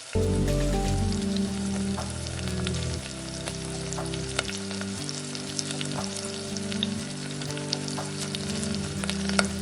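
Steady crackling sizzle of chopped onions frying in hot oil, close by, with occasional stirring clinks and a low background hum.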